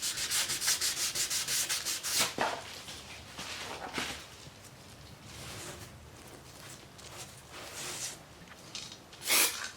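Sandpaper rubbing back and forth over primer on a repaired scratch, a steady, close scratching rhythm with sharper strokes now and then, fairly quiet and alone.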